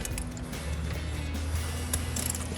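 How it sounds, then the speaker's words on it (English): A ratchet wrench working on a spark plug of a RAM 1500 pickup, giving quick close metallic clicking in short bursts over a low background hum, with no talking. "Back with your wrench, just loosen it up."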